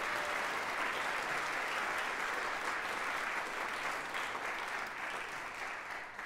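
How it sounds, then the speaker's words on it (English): Concert hall audience at Merkin Hall applauds healthcare workers during a recital, a full, sustained wash of clapping that holds steady and fades slightly near the end. "a big round of applause to all of our healthcare workers"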